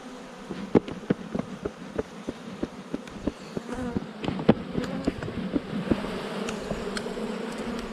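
Honey bees buzz around an open hive during a pre-spring inspection, with a steady insect hum and repeated sharp passes of individual bees close by, and no talking.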